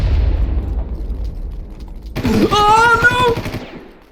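A grenade blast and gunfire in the video game Far Cry open with a heavy, rumbling boom that slowly fades. About two seconds in, a sharp burst and a loud voice cut through near the end.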